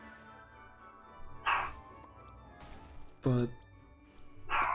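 Small pet dog in a Minecraft One Piece mod barking in three short sharp yips spread across a few seconds, mixed in with game sounds and someone talking over them.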